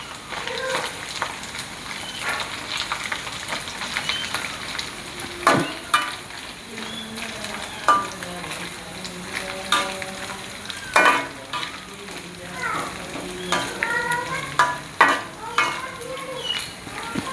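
Small anchovies (teri) frying in oil in a pan for sambal jengkol, a constant crackling sizzle with periodic scrapes and clinks of a spatula stirring, close and moderately loud.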